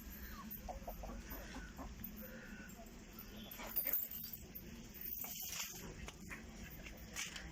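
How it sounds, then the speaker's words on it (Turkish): Chickens cluck softly and intermittently while eating feed in a village farmyard, with other animals bleating now and then in the background. "Tavuklar da yemlerini yiyorlar."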